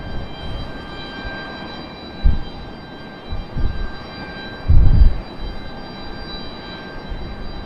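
A United airliner lands at Raleigh-Durham airport in a westerly crosswind, its engine roar distant and steady with a faint high whine, punctuated by a few louder low thumps and rumbles.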